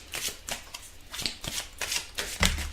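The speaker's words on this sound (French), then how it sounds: "on va tirer une carte pour avoir une énergie sur le plan amoureux" Tarot cards being shuffled by hand in a series of quick, close riffling bursts, with a soft thump near the end as a card falls.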